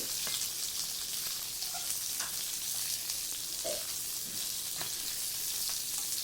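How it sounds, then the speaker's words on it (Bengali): Diced potato and carrot sautéing in hot oil for fasting-day sago khichdi, a steady close sizzle with faint stirring scrapes and no voices. "এবার একটু তেলের মধ্যে কষিয়ে নেব সবজিগুলোকে"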